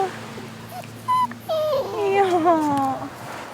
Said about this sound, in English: That little puppy wants to come with us, of course.